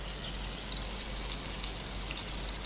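Water is poured steadily over eggplant slices in a pan, a continuous close-up trickling and streaming sound with no talking.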